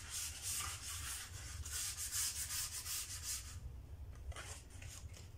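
Sandpaper rubbing along the edges of a small handmade Britto-style painted craft picture, a run of quick, soft rasping strokes in a steady rhythm that pause briefly before a few final scrapes.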